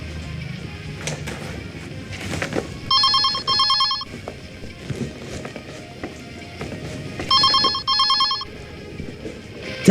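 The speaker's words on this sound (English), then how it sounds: "Telephone. Oh, the phone." A telephone bell rings indoors in two clear bursts, each a quick double trill, against background movement and faint footsteps, with no talk.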